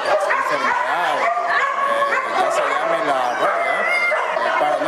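Dog barking and yipping with whimpering cries at a canine rabies vaccination outing, loud and close, with excited overlapping calls throughout and people talking at the same time.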